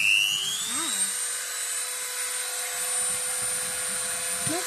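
An electric motor on a VW T4 camper van, likened to a Hoover vacuum cleaner, runs steadily with a high whine that climbs in pitch early on and then holds, close and fairly loud, with faint speech underneath.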